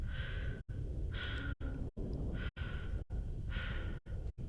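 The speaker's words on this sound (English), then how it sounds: "all the noise disappears except for your breathing" A video game character's breathing, with all other noise dropped away: slow, even breaths rising and falling in a steady rhythm, close and fairly quiet, broken by several brief silent gaps.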